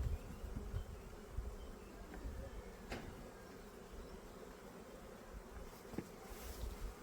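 Steady honeybee buzzing fills the clip, a dense low drone of many bees close by while frames are moved into a Ukrainian hive, with a few brief clicks and knocks.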